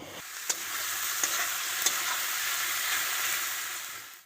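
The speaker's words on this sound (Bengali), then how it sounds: "আমি এখানে দেখো পেঁয়াজ কাঁচা লঙ্কা টমেটো দিয়ে দিলাম মাছ তো ভাজা হয়ে গেছে এখন আমি মাছের ঝালটা করে নিচ্ছি" Onions, green chillies and tomatoes sizzle loudly in hot oil for a Bengali fish curry, a steady dense frying hiss with a few sharp clicks of spoon or pan, close and alone without talk.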